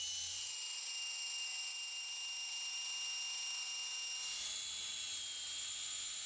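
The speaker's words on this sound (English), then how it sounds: "The battery-powered pipe belt sander, RBS-A, always provides you with the right tool for a multitude of applications" Battery-powered RBS-A pipe belt sander running with a steady high-pitched motor whine that holds evenly, then its tone shifts and a rougher low rumble joins partway through, as if the belt meets the workpiece.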